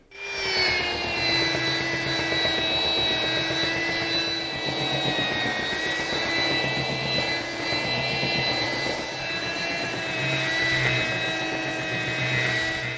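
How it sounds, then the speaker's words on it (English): A belt sander runs along the grain across a glued-up wood panel, its motor holding a steady, loud, droning whine with a rough sanding hiss underneath for the whole stretch. "get rid of those scratches by using the belt sander with the grain"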